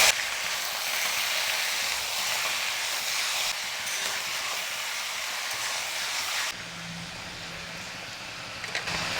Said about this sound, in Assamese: এতিয়া মাংসখিনি অকণমান সময় মই ভাজি থাকিম।